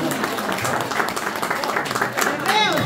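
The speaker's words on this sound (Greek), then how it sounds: "Το δάσκαλο της χοροδίας μας, Αλέξη Κύλη, ένα χειροκρότημα." Audience applause at a cultural association's choir event, a steady wash of clapping that continues through the clip with crowd noise and some voices mixed in.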